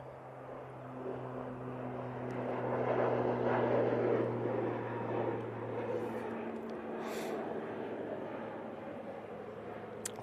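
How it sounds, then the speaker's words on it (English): Airliner in ex-Avianca livery rolling for takeoff at Manchester Airport, bound for Guernsey: a steady distant engine roar with a low droning hum that swells and fades gently, heard alone without talk. "Now on the roll, going back to Guernsey in the ex-Avianca livery"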